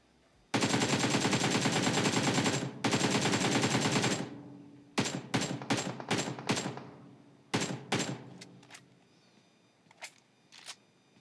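Automatic gunfire in PUBG Mobile, starting with a long sustained burst that cuts off, then a run of short sharp bursts and single shots that thin out and grow more spaced, loud and close, with no voices.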